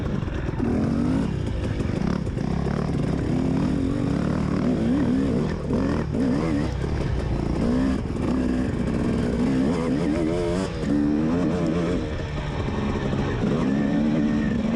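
A dirt bike engine races in a hare scramble, snarling continuously up close as it revs, lugs and rises through the power band with warbling throttle changes throughout.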